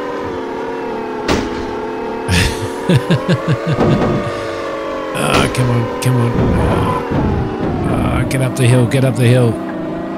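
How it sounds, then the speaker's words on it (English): Engine of a pink tractor in a driving video game, droning steadily with rising and falling pitch as it climbs a hill, heard under frequent talk from a player. "It's you could do with some new tractor sounds, surely."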